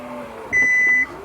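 Door-open warning beep from a luxury midsize SUV (BMW X3, Audi Q5, Porsche Macan, Mercedes GLC, Volvo XC60 or Genesis GV70), a single steady electronic tone lasting about half a second, clear and close over faint background hum.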